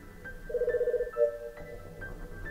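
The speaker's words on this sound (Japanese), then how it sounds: "おや、電話がかかってまいりましたので、ちょっと失礼させていただきます。" An in-game telephone rings in Famicom Detective Club, a short burst of rapid electronic trills followed by a shorter second tone, set over faint background music and chimes.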